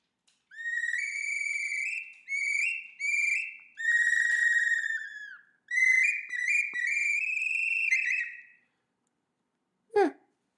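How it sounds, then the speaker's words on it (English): A series of high, pure whistles in short bursts and longer held notes, some rising, with a brief sharp squeak near the end. "It sounds like a lot of whistles, I guess."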